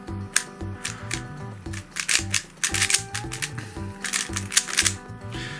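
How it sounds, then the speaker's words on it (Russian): Rapid plastic clicks and snaps from a YJ YuLong v2 M 3x3 puzzle cube being turned, loud when cutting corners, in quick irregular bursts, close by, with faint music underneath. "такие вот громкие щелчки при срезании углов"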